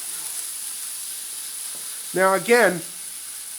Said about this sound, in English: So it's been sizzling here for a little while.